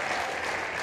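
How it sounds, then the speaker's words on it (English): A brief, steady wash of crowd applause fills a gym at a high school basketball game as a player checks out, heard as a dense, even roar of many hands. "out of the game will be Jackson Crowley, to a round of applause."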